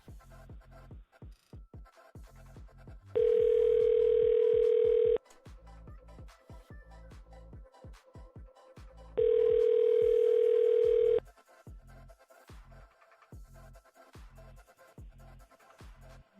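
A telephone ringing on an outgoing call to a landline: two long, steady ring tones about six seconds apart, loud and clear over a busy background of rhythmic clicking and music.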